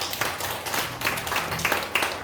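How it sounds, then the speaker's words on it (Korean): A church congregation claps in a steady patter of applause, moderately loud and fairly close, with no speech over it. "하나님의 박수 한번 드리겠습니다."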